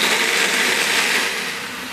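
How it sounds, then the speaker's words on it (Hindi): A Super Asia blender blending a chicken marinade with cooking oil, a loud, continuous whirring roar held close up throughout, easing slightly in volume near the end. "अब इसको हम अच्छे से ब्लेंड कर लेंगे और ब्लेंड करके इसको निकालेंगे"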